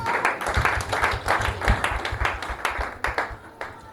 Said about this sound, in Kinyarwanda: mushatse mwafasha tukabakomera amashyi abana bacu